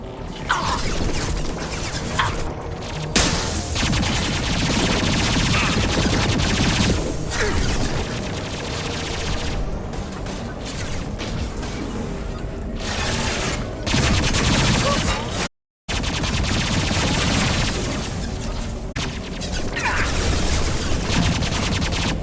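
Sustained gunfire from the video game Mass Effect 2, with rapid bursts, booming impacts and crashes layered into a loud, nearly continuous barrage, broken by a brief dropout and accompanied by occasional game voices.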